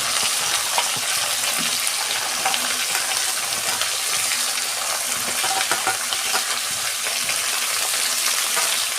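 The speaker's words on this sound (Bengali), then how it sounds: "এই যে আলু আর মটরশুঁটি দিয়ে দিচ্ছি।" Potatoes and peas going into a pan of frying cabbage for a vegetarian cabbage ghonto, giving a steady, loud oil sizzle with stirring scrapes throughout and no talking.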